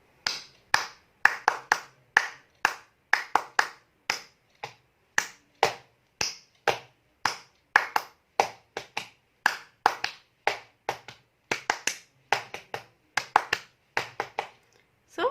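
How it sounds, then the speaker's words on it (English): A nursery teacher claps her hands to make sounds for toddlers, a long series of crisp, close, evenly spaced claps with short gaps between them. "we are just going to clap our hands"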